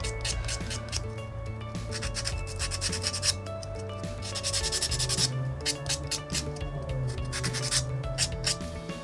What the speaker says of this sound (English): Next I can buff this.